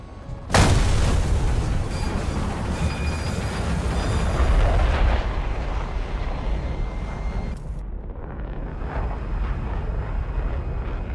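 Bombs exploding in the War Thunder video game, a sharp heavy boom followed by a long rumbling roar and a second sudden break, loud and continuous with no talk.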